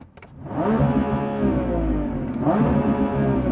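A 2024 Lamborghini Revuelto's engine revs hard while parked, climbing to a loud sustained high-rpm wail, easing briefly, then rising again, close and continuous with no talking.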